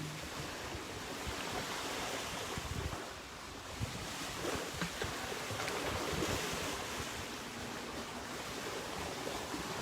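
Water waves lap continuously at close range, a dense steady wash with wind noise and no speech throughout.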